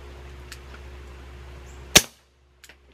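A single suppressed subsonic shot from a Beretta Bobcat Model 21A pistol fired into dirt, a short sharp crack out of a quiet background, followed by a couple of faint clicks.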